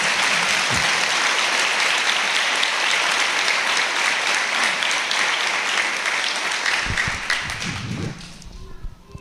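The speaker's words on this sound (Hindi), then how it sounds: "यीशु के लिए ताली बजाएं।" A church congregation claps for Jesus during a Hindi sermon, a loud, sustained wash of many hands that runs for several seconds, then thins and tapers off at the end as a few thuds and a voice emerge.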